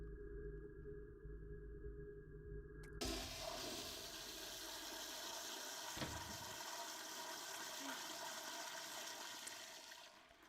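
A toilet flushes in a short TikTok horror clip, starting abruptly after a quiet tonal passage and continuing as a steady rushing gurgle of water that slowly fades near the end.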